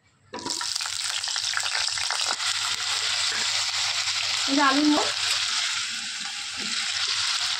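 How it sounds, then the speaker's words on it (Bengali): Potatoes sizzle steadily in hot oil in a wok, a dense, close crackling hiss that starts abruptly and continues evenly, with a brief stir or clink partway through. "এখন আমি আলুগুলো ভেজে নেব।"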